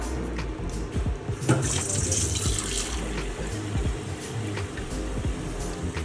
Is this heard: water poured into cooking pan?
yes